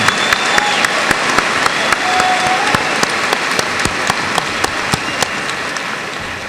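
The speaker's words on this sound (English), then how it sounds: "Let's give them a big round of applause." Audience applause at a 2002 high school graduation ceremony, a sustained, even round of many hands clapping, with a few sharp, distinct claps standing out over the wash.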